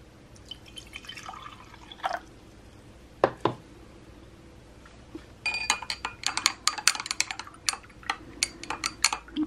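Water pours into a container during dye testing, heard as scattered splashes and clinks at first, then a busier run of dripping, trickling sounds close to the microphone.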